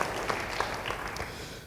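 A church congregation claps steadily for the whole stretch, a dense wash of applause from many hands with no voices standing out.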